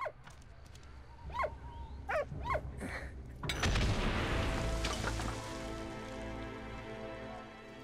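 A dog in the World War I video game Valiant Hearts gives several short barks, followed by a heavy rumbling explosion and debris that fades slowly.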